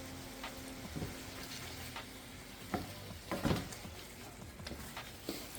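Sauce of fish sauce and sugar stirred into a sizzling stir-fry pan, a steady frying hiss with a few scraping stirs and clinks, close, no talking.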